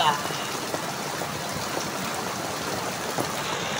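Heavy afternoon rain pours down steadily in a dense, continuous hiss of drops striking surfaces, loud and close throughout, with people's voices faintly mixed in.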